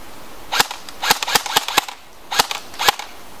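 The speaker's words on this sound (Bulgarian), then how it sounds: "Нека демонстрираме малко стрелба." A Magpul M4 CQB airsoft electric gun fires single shots, sharp dry snaps spaced irregularly across a few seconds, close and crisp, about eight shots in all.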